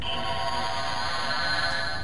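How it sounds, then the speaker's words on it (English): A steady shimmering electronic tone hums continuously from a small Star Trek toy's transporter sound effect, like a sci-fi teleport effect, sustained and even throughout. "That's the transporter."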